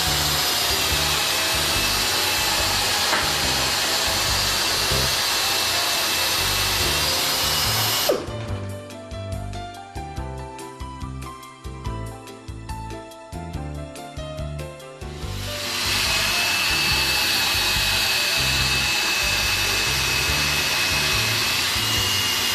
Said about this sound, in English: Attach a carbide cutter to a 500 RPM slow-speed air drill and adjust a puncture flaw from the inside and outside,